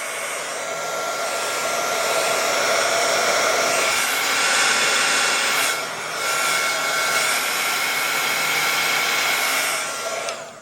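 A hair dryer blows steadily at close range on damp scrunched fabric flowers, a continuous whooshing roar that dips briefly midway as the airflow shifts, then resumes; no talking.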